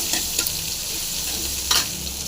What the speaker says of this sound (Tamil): இடித்த பூண்டு போட்டுடலாம் இதை போட்டு நல்லா ஃப்ரை பண்ணிக்கலாம்